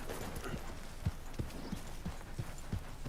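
Horse hooves clip-clop at a steady walking pace in Red Dead Redemption 2, about eight distinct thuds spaced evenly over a constant low game ambience.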